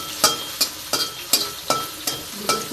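Two dried red chillies fry in a pan while being stirred, giving a soft sizzle broken by about seven crisp, evenly spaced scraping strokes.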